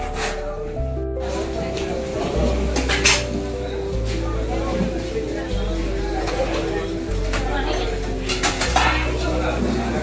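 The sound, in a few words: dishes and cutlery while eating a rice lunch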